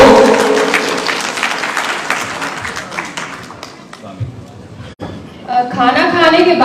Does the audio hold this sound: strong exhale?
no